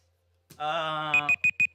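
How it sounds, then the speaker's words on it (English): An electronic alarm goes off: a sustained buzzing tone followed by four quick, evenly spaced high beeps, close and clear with no talk. "You can hear the alarm."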